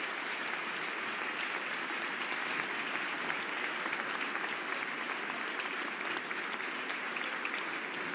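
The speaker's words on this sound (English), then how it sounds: "The crowd are applauding as Alex Greenwood is put on the stretcher" A stadium crowd at a women's Nations League football match, Belgium against England, applauds steadily as an injured player is stretchered off, a dense, even wash of clapping that lasts throughout with no break.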